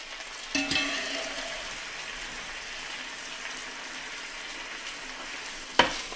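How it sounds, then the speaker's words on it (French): Sardines frying in oil in a pan for spaghetti, a steady soft sizzle throughout with a couple of sharper clatters near the start and end. "On a bien fait revenir les sardines comme ça dans l'huile."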